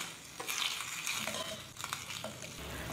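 A pan of sauce made with oyster sauce, soy sauce and roasting juices from char siu pork bubbles and sizzles steadily, with occasional stirring clinks, close and fairly quiet.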